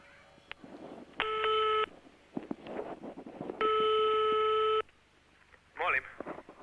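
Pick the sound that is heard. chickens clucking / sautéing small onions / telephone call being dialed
telephone call being dialed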